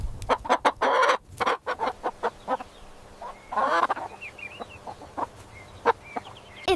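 A chicken clucks in a rapid run of short, sharp calls with brief pauses, then a louder squawking burst midway, followed by scattered single clucks; it is close and clear, with no voices.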